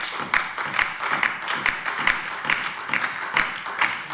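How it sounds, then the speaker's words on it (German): Applause during a parliamentary plenary session in the Bundestag: a steady run of evenly spaced claps from a modest group, moderately loud and continuing without any talk. "Applaus"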